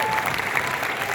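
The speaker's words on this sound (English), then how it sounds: "Let's give them a round of applause." An audience claps for filmmakers after a film screening at the Outfest festival in Los Angeles, a steady dense wash of applause with no gaps.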